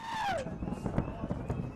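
New Year's fireworks display in Dubai with 400,000 fireworks, heard as a run of sharp crackling bursts and pops following a whistling rise, moderately loud over crowd noise.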